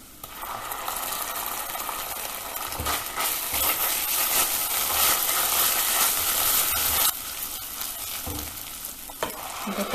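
Ginger, garlic and green chilies sizzle and fry steadily in a pan over lowered heat for egg and potato biryani, a dense continuous crackle with occasional stirring clinks and a brief dip near the end.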